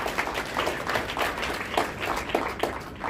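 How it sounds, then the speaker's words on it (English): An audience claps at a keynote address on enterprise education, a moderate rhythmic patter of hands with individual claps standing out, steady and fairly near for a few seconds. "Yes, you can clap."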